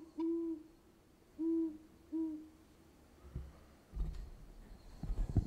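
Three deep, low hoots from a great horned owl, evenly spaced and fairly close, with a soft second note above each; faint clicks and rustling handling noise follow near the end.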